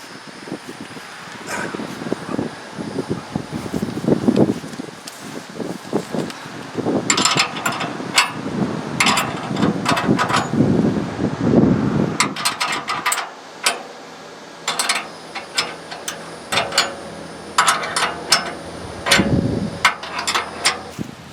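Wrench tightening a stabilizer on a Harbor Freight motorcycle carrier, with sharp metallic clicks and clanks in uneven clusters over steady background noise, close by and with no talking.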